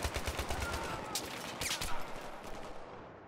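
Rapid gunfire in the video game Battlefield 3 rattles in quick bursts, dense overlapping shots at close range that tail off toward the end.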